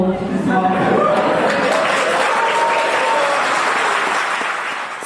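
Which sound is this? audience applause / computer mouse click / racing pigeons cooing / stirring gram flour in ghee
audience applause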